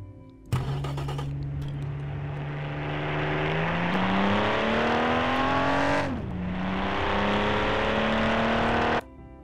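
A heavy convertible on a test track in the Automation game, its engine droning loud and close. Pitch climbs steadily through the gears, dips at a shift around six seconds, then resumes climbing before cutting off abruptly.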